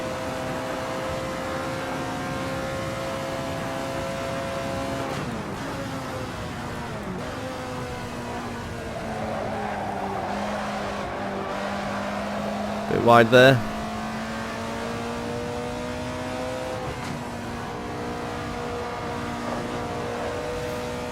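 An Alfa Romeo 33 Stradale races around Laguna Seca in Assetto Corsa, its engine a steady droning whine that dips and climbs through gear changes. A brief sharp burst cuts in midway, and someone talks briefly over it.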